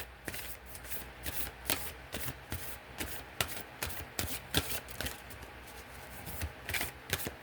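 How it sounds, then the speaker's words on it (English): A deck of healing oracle cards being shuffled by hand, rapid crisp riffling snaps in irregular bursts at close range, fairly quiet, with no talking over it. "me shuffle these cards, guys."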